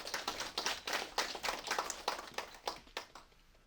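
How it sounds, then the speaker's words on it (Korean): An audience at an election campaign office opening clapping to welcome a speaker, a quiet, somewhat distant patter of uneven applause that fades out toward the end. "여러분 큰 박수로 맞이해 주시기 바랍니다."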